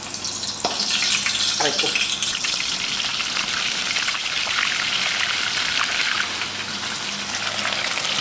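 Loud, continuous crackling and sizzling of squid frying in hot oil fills the whole stretch, with a brief voice near the start.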